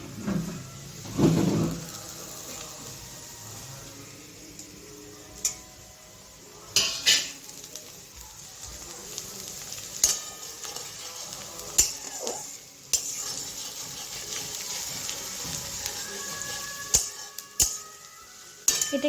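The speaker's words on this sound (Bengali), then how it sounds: "এবারে দিয়ে দেবো রসুন কুচিগুলোকে।" Chopped garlic goes into a pan for chicken kosha, with clinks and scrapes of a utensil against the pan over a faint, steady sizzle of frying and occasional sharper knocks.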